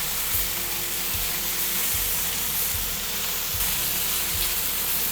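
Chicken pieces sizzling loudly on a hot griddle right after being flipped, a steady dense hiss of frying fat with faint low thumps and scrapes beneath, continuous and close.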